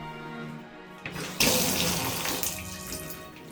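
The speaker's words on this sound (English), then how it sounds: "Now we can drain the water from the system." Water rushes from an opened bathroom tap as the domestic plumbing system is drained, a sudden loud gush after a brief quiet hiss, splashing steadily into the basin.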